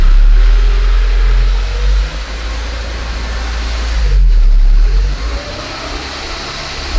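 A 1991 Ford Scorpio 2.0 Ghia with about 11,000 km runs close up, its engine idling steadily with a deep low hum and a brief rise in revs midway, no voices over it.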